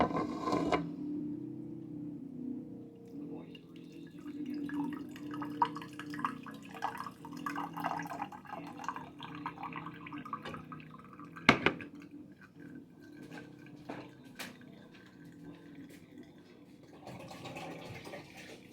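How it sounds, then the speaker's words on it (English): Homemade apple juice straining through a strainer and dripping into a glass jar: soft, continuous trickling and patter close by, with a few sharper clinks, fairly faint and without speech. "Right now we're just going to strain the juice."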